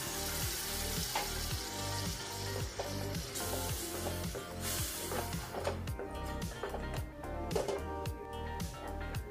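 Water goes into spiced masala frying in a pan for a mutton liver and potato curry, raising a loud crackling sizzle with a pulsing, bubbling texture throughout.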